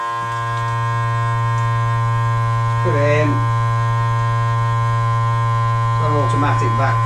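A vacuum sealer hums steadily and loudly as it draws the air out of a plastic bag holding squid bait, and a voice speaks briefly twice over the constant drone.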